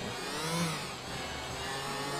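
A motorcycle engine in GTA IV holds a steady, whining rev throughout, rising slightly and dipping back, with a constant buzzy drone and no speech over it.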